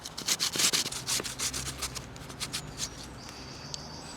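Potatoes are grated by hand for hash browns, giving a rapid, rhythmic rasping of repeated scraping strokes, loud and close at first and then fading to lighter, sparser rubs.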